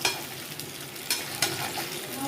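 Kebabs fry in oil in a pan with a close, steady sizzle and crackle, with a couple of sharper spatters breaking through.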